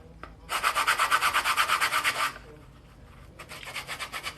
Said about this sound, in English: I'll take my sanding block